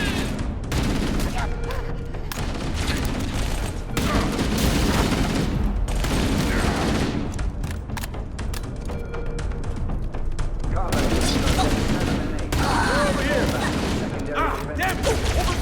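Sustained gunfire and booming weapon blasts in a Halo campaign battle aboard the ship Autumn, dense and loud throughout with rapid bursts, thuds and explosions, mixed with in-game voices shouting over the fighting.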